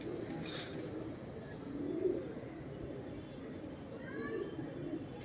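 Rajasthani pigeons in a loft coo softly nearby, low throaty murmurs repeating over a rustling background, with a brief faint chirp toward the end.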